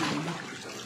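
Water pours steadily into a bathtub being filled for a child's bath, a close, continuous rushing stream that runs through the short moment.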